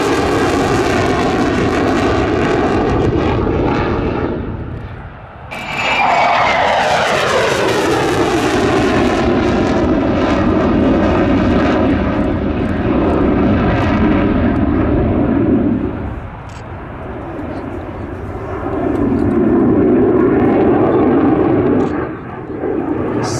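An F-16 fighter jet roars loudly through a SOLOTURK practice airshow display, its engine tone sweeping down in pitch as it passes, dipping briefly and surging again in sustained waves.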